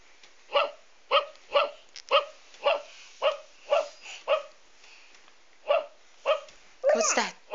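Dog barking in a string of about a dozen evenly spaced, close, fairly loud barks with short pauses, ending in a brief higher whimpering yelp.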